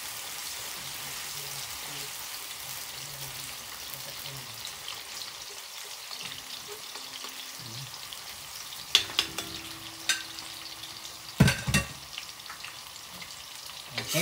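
Onions and garlic fry for bistek with a continuous crackling sizzle throughout, and a few louder utensil clinks and scrapes toward the end.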